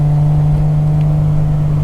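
A 1974 Triumph TR6 with an upgraded performance exhaust runs close by, a loud, steady low engine drone with a strong constant hum and no voices.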